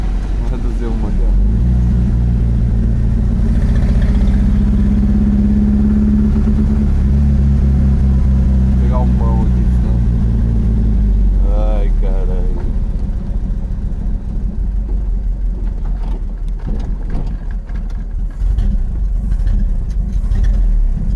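Chevrolet Opala engine rumbling loudly inside the car, its low drone rising and dropping as the driver downshifts, with a voice speaking over it partway through.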